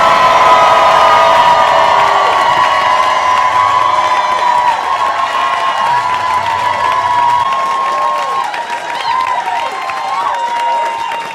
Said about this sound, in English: if you think Emily should be the champion, make some noise right now.